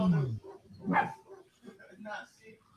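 A dog barks several times in short yappy bursts, fairly quiet and close, with a person talking to it between and over the barks.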